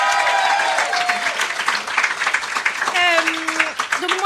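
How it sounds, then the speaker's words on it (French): An audience claps throughout at a live stage event in Marseille, with a dense, even wash of hands and a voice speaking over the applause. "Faites un peu de bruit pour vous, s'il vous plaît. Applaudissez-vous."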